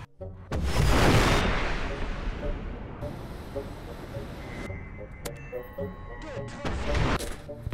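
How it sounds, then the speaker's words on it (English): Stinger missiles slam into an Su-25 attack jet in War Thunder from several angles, a loud booming impact followed by a long rumbling roar and a few sharp cracks, with a voice speaking over the later part. "I set up an Su-25 to get hit by Stinger missiles from three different angles"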